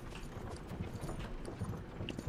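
A horse's hooves clip-clop steadily as it pulls a cart in the video game Myth of Empires, with a low rumbling undertone and occasional creaks, fairly faint and close.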